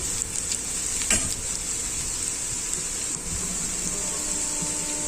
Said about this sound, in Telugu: కొంచెం బ్రౌన్ కలర్లో ఒక ఆనియన్స్ అయిన తర్వాత మనం కడిగి పెట్టుకున్న తోటకూరను వేసుకోవాలండి